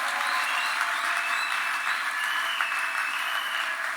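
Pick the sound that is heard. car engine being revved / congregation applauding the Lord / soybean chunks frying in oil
congregation applauding the Lord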